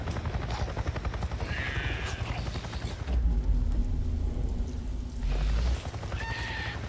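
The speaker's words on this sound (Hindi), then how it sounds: "A Nero chopper! It just buzzed right over me." A NERO helicopter in the video game Days Gone passes overhead. Its deep rotor rumble swells for a few seconds mid-clip over other game sounds, then fades.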